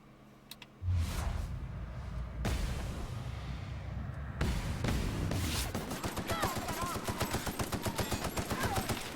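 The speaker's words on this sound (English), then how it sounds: "Shooting my own people." Gunfire in The Outer Worlds opens with heavy single shots, then builds into rapid, rhythmic automatic fire, loud and near, with a voice faintly underneath.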